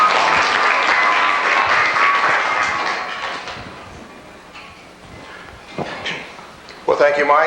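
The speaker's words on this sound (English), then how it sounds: "So let's give them a round of applause." An audience at a homesteading talk claps loudly in sustained applause that slowly fades over several seconds, followed by a few scattered sounds and a voice starting to speak.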